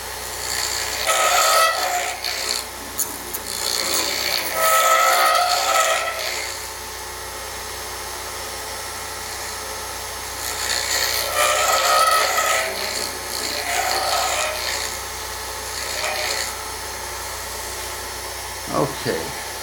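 Roughing gouge cutting an acrylic blank spinning on a lathe, a scraping, rasping rub that swells in several long bursts and fades between cuts, close and fairly loud.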